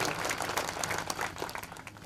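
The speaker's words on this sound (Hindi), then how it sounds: "जोरदार तालियों से सर का स्वागत कीजिए डायस पर" Audience applause welcoming a speaker to the dais at a coaching centre motivational programme, a soft, distant wash of many hands clapping that holds steady before easing off.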